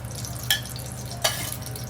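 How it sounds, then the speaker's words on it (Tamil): Ghee poured into a hot pot for Tamil Nadu style chicken dum biryani gives two brief, sharp sizzling bursts over a steady low background hum, with no talking. "ஸோ இப்போ வந்து நம்ம நெய் ஊற்றிக்கிறோம் ஒரு 2 ஸ்பூனு."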